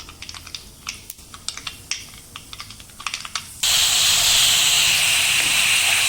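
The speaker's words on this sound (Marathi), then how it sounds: "आता मी फोडणी करून घेईन" Onion, green chilli and curry leaves hit hot oil for tempering, setting off a sudden loud, steady hiss of sizzling that follows a few light taps and clicks close by.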